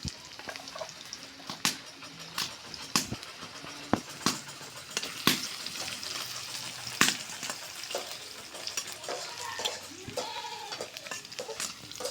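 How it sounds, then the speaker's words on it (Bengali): Chopped onions, chilies and garlic fry in oil in a pan with a soft steady sizzle, broken by sharp clicks and scrapes of a spatula stirring at irregular intervals, while bleating goats call faintly in the background. "পেঁয়াজ মরিচটা লাল লাল করে ভাজা হয়ে গেছে"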